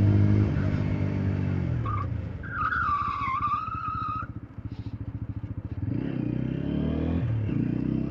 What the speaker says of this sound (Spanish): de la rueda de atrás van a ver que no tiene ABS, entonces por ende va a tender a derrapar